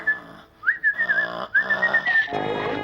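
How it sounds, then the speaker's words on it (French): A whistle is blown close by in a few shrill blasts that waver slightly in pitch, then the sound gives way to a low background hum. "C'est un sifflet."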